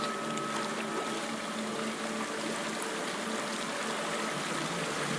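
A video game waterfall in Hellblade: Senua's Sacrifice rushes with a constant broad roar of falling water, steady and unbroken throughout.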